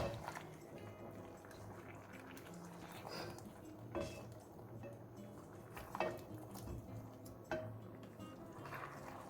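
Beef ragu ingredients stirred together in a pot: soft wet squelching and a low simmer, with occasional louder clinks of a spoon against the metal pot, near and fairly quiet.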